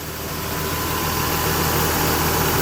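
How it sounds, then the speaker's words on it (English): 1990 Nissan Skyline GTS-T Type M engine running, a steady loud idle with a broad hiss and hum that swells slightly, heard close with no talking. "the engine running condition is good"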